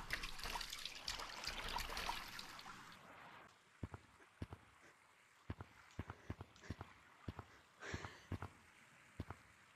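River water running through a tunnel in Gorilla Tag, a faint trickling flow with scattered light splashy clicks after a brief burst of louder rushing at the start.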